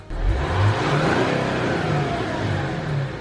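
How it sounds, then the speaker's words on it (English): An Audi A4 3.0 TDI diesel revs steadily with a deep, rumbling exhaust drone, rising and falling slightly, loud and close throughout. "The A4, well, the exhaust sounds like this."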